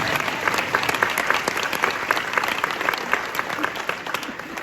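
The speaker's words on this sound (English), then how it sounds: "I think folks want to clap for that." Audience applause fills a commencement ceremony hall, a dense, steady wash of many hands clapping with a few cheers mixed in, loud and sustained throughout.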